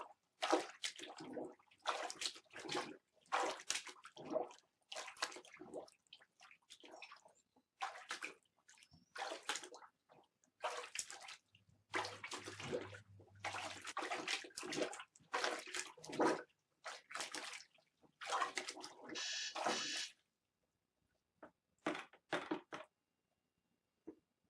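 A Breathing Mobile Washer plunger pumps clothes in a tub of water, making repeated close splashing and sloshing strokes in an irregular rhythm for about twenty seconds before stopping.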